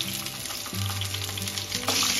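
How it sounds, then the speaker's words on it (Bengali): Pointed gourd (potol) pieces seasoned with salt and turmeric fry in hot oil with a steady, close sizzle that runs the whole time, broken by a couple of low stirring knocks. "একটু ভেজে নেব, পুরো লাল করে ভাজবো না, হাফ ভাজবো।"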